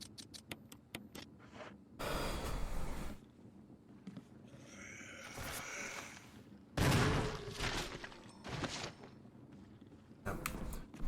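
Gunshots from the Resident Evil video game sound as sharp, loud bursts at irregular intervals, some in quick clusters, mixed with shuffling and movement noises between shots.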